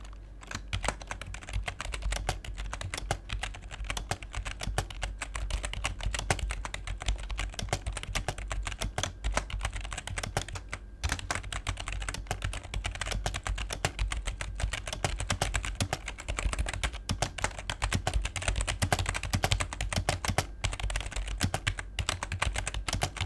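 Fast, continuous typing on a Logitech G213 Prodigy keyboard: dense, even key taps rattle close up for over twenty seconds with no talking.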